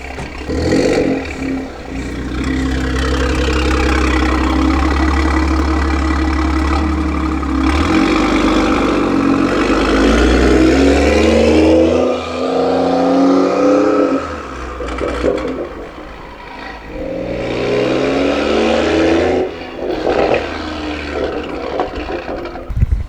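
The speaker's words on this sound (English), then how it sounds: "But the turbo spool sounds crazy." A loud turbocharged BMW M340i engine with a big turbo revs and spools close by in sport mode, rising and falling in long surges with a whooshing turbo whir over the roar.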